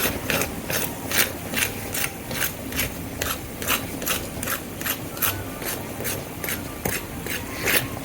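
Crisp potato tikkis, shallow-fried on a slow medium flame, are scraped and handled with brisk, rhythmic crunchy rasps at about two per second over a steady background hiss.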